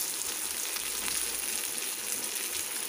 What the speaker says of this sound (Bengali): ফোড়ন দিয়ে আমি একটু পেঁয়াজ দিয়ে দিলাম